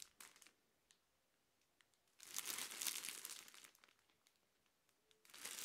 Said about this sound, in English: let's go ahead and open up the clear plastic bag that's keeping the panettone fresh.